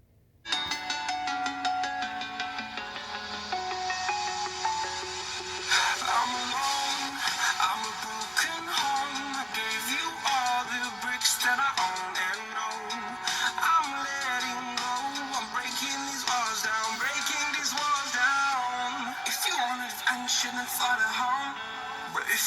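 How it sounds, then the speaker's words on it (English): Royalty-free music plays through the built-in speakers of a Samsung Galaxy Tab A7 Lite tablet, a steady melodic track with a rhythmic beat heard continuously at moderate level, starting after a brief moment of quiet. "So we're going to do some royalty-free music."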